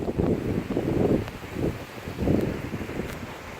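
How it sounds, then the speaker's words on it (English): Gusty storm wind drives rain against an outdoor phone microphone during a severe storm, surging roughly every second in loud buffeting waves without any speech. "Rain's blowing in on me."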